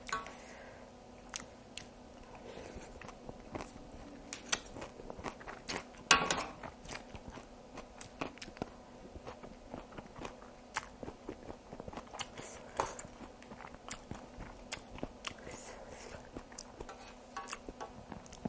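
Chewing and crunching while eating a big platter of Lao mixed papaya salad, close, irregular bites and crunches at low level, with no talking.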